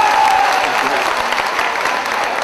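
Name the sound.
audience applause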